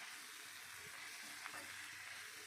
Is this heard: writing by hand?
no